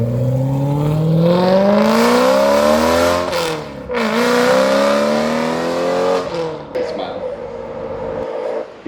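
A regular BMW M3 fitted with a full Valvetronic Designs V2 exhaust setup revs hard and loud, the pitch climbing and falling through several sweeping pulls under continuous engine roar before cutting off near the end.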